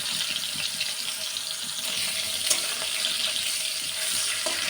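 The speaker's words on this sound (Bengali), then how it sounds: "যেভাবে মাছ ভাজছি সেভাবেই ভেজে নেব মাছগুলো" Pieces of fish, including katla, fry in a pan with a steady close hiss of sizzling oil that continues evenly throughout.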